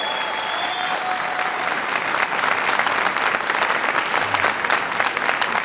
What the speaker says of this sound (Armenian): Եկեք ծափարենք մեր բոլոր շրջանավարտներին շատ բարձր